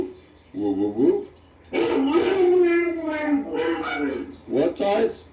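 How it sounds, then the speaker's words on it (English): A Siberian Husky howls in drawn-out, wavering cries at close range, in several bursts with short gaps, while a person talks to it nearby. "No woo woo woo, Taz."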